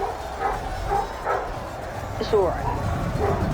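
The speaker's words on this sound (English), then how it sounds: "And they always bark when we have visitors" Dogs bark and yip at a visitor indoors, a few sharp barks with a whimper in between, while a person speaks a short reassurance over them.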